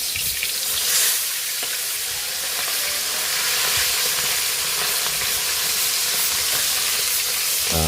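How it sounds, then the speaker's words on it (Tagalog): Dalagang bukid fish, redbelly yellowtail fusilier, frying in hot oil, a steady dense sizzle with soft crackles that holds from start to end with no talking. "Basta rin natin yung ating pritong isdang dalagang bukid."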